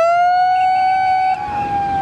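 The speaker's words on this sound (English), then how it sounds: "unfortunately we have a siren whistle indicating that there was a false start" A siren whistle at a men's collegiate novice rowing race signals a false start, a loud, steady, slightly rising tonal wail that holds for about two seconds with a brief dip midway.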